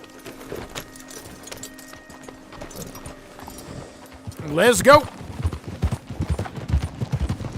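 Horse hooves clip-clop in Red Dead Redemption 2 as a rider mounts up, steady hoofbeats under game sound and a horse's brief whinny, while a person talks over it.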